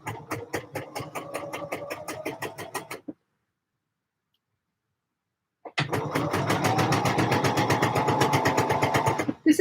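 A domestic sewing machine stitches a T-shirt neckline in two runs of fast, even mechanical pulsing. A short burst is followed by a few seconds of silence, then a longer, louder run close to the microphone.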